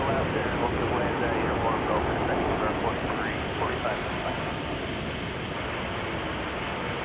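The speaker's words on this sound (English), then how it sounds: "It's American Airlines Flight 86 off to London Heathrow on a 787-9 Dreamliner." An American Airlines Boeing 787-9 Dreamliner takes off from Chicago O'Hare bound for London Heathrow, a broad steady engine roar that slowly fades, heard at a distance.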